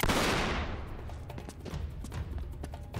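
Gunfire in Uncharted 3: Drake's Deception, set in France: a loud opening blast gives way to rapid, repeated shots crackling in an irregular burst over a low rumbling bed.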